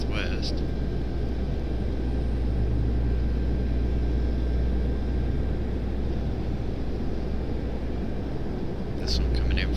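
A Southwest airliner arriving at Raleigh-Durham airport gives a steady, distant jet roar with a low rumble that holds through the whole stretch, with brief higher hisses near the start and end.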